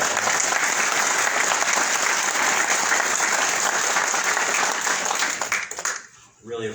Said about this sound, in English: So I just want to ask for a round of applause for our veterans